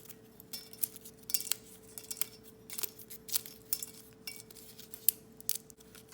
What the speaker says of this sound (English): For this jar, I'm going to break up the pieces a little bit more so I can fit some more into the jar.